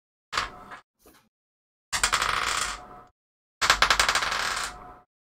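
Dice rolled on a table during a tabletop role-playing game session, three separate bursts of clattering, rattling tumbles close up, each lasting about a second, with no talk over them.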